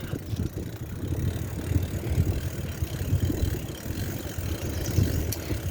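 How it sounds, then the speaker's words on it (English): Bicycle rolling along an outdoor path, with gritty tire noise and wind buffeting the microphone, fluctuating steadily up close and no one talking. "I'm gonna just ride my bike down here"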